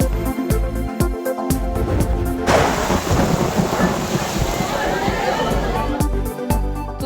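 Heavy storm rain pours steadily while a long rolling rumble of thunder builds and fills several seconds, with a broadcast voice speaking over the downpour at the start and end.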